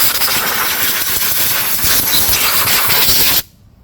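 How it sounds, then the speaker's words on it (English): A short compressed-air blowgun blasts steadily and loudly, a dense hiss used to clear a mouse nest from a Husqvarna tractor's Briggs and Stratton V-twin engine, cutting off abruptly near the end. "Alright, we got the short blowgun here."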